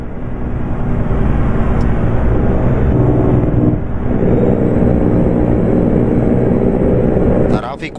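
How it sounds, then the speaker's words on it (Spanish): A Kenworth T800 dump truck's engine brake in American Truck Simulator gives a loud, steady, close rumble for about seven and a half seconds before cutting off abruptly. "Sabroso ese freno de motor"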